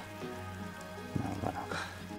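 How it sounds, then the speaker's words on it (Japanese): Steady rain falls outdoors on a mountain karst plateau in Shikoku, a dense continuous patter that stays at an even level for the whole stretch, with no voices. "8時まで雨は止まないらしいです。"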